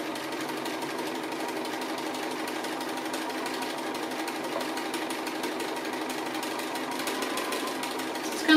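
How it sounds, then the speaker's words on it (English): A sewing machine stitches appliqué in a continuous fast mechanical whirr with rapid needle ticking, close and steady with no voices. "Like drawing with your sewing machine"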